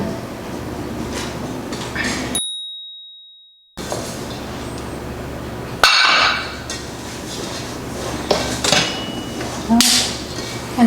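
Cornbread stuffing is mixed in a bowl with scattered clinks and knocks of a utensil, plus a sudden loud clatter partway through, heard close with brief talk in the background.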